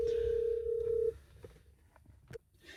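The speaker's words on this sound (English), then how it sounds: "I have to excuse the ringtone because someone's calling me" A phone's tone sounds as a steady single-pitch beep for about a second, then stops, leaving quiet background with faint clicks.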